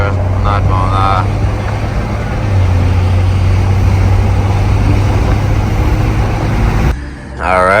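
BMW M240i with a catless downpipe, resonator delete and performance muffler, droning loud and steady under acceleration with a rising whoosh of turbo spool, close to the car and masked by a voice speaking over most of it.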